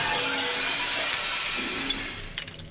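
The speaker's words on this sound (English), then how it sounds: "the control room window shattered." A control room window shatters in a radio drama effect, a loud sustained burst of breaking glass that fills the whole stretch with crashing, tinkling shards and no voices.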